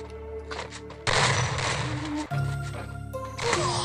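Gunfire in a first-person PC shooter match, with broadband shots bursting in over a continuous game soundscape, including a loud burst at the one-second mark and another near two and a half seconds, fairly close and loud.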